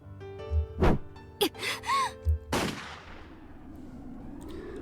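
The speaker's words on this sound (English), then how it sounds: "a gunshot rang out loud" A gunshot in the video game Higurashi rings out: sharp, loud bursts among game sound effects, the last crack trailing off into a long reverberant decay that fades to near silence.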